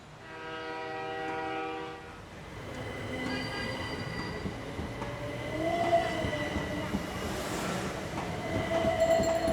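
A train rolls through with a loud horn blast at the start, followed by squealing wheels and rattling carriages that grow louder toward the end.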